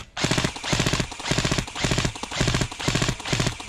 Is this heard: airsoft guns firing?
yes